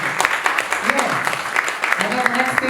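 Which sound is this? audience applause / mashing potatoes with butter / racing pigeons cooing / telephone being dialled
audience applause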